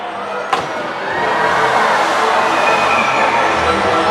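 A killer whale breaches at a marine park show, with a sharp impact followed by a rising, sustained roar of rushing water and crowd noise that swells and holds loudly.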